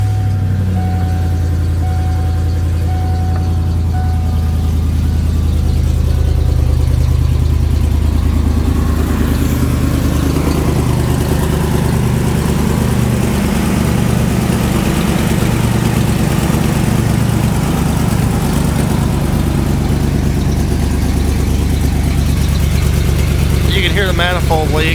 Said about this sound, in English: I'll start it up so you guys can hear it run.